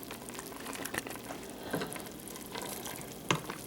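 Frozen, partly thawed cream cheese is stirred into a hot pot, giving a low, soft bubbling sizzle with occasional faint scrapes and one brief clink near the end, quiet and close with no voices.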